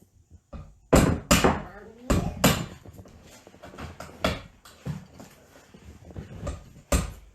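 Sharp metallic taps from a hammer striking a nail into tin, irregular and close, with quieter clinks between the louder hits.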